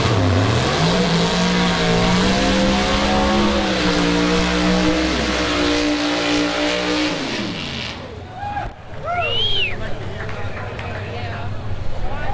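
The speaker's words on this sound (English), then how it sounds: "So there's gonna be some good racing right here, y'all." Race cars at a Tri-Five car show race meet build to a loud, sustained engine roar whose pitch climbs and falls, then give way to a thinner high whine as the sound recedes.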